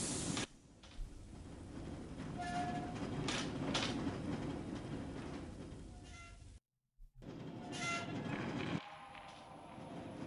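Train ride in the Shadow Man Remastered video game, a continuous rumbling rattle of rail cars with faint squeals, briefly cut to silence before the rolling noise resumes.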